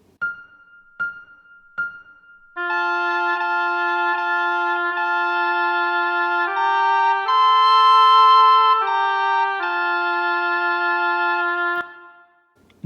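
A melody sung by a computer with a harmony line in thirds added: three short clicks or beeps, then sustained synthetic vocal tones stepping through a few pitches in two-part harmony before stopping cleanly.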